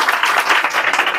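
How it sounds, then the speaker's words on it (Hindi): An audience claps for a student called to stand during a motivational speech in a school setting, a dense, steady patter of many hands filling the short moment without a break. "अनिकेत रैन के लिए ताली बजाओ पहले"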